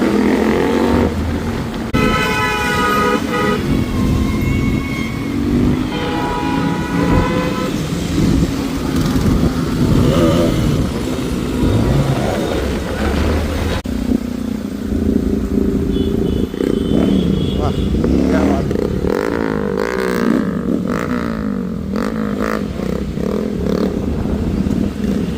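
Motorcycle engines rev and rumble continuously, with horns tooting, at a Republic Day bike rally of more than 200 bikes lined up on College Road in Nashik. The traffic is loud and close throughout.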